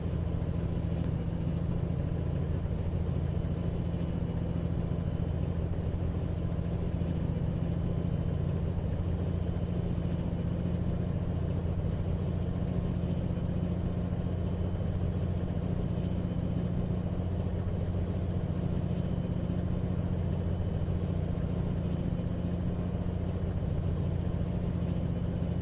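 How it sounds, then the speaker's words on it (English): A truck engine drones steadily in American Truck Simulator, a continuous low mechanical hum that holds unchanged throughout while the vehicle drives, with no voices heard. "I'm going to drive this truck and talk to myself."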